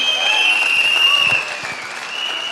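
An audience at a gathering bursts into loud, dense applause that holds steady, then eases to a lighter patter of clapping toward the end.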